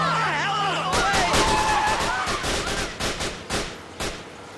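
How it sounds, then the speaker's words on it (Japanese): Gunfire in Grand Theft Auto IV during a fight with Albanian gang members: a rapid run of sharp shots and bursts, loud and close, with game voices and a shifting whine early on, then tapering into scattered single reports. "教会の鐘じゃなく銃声が鳴り響きました"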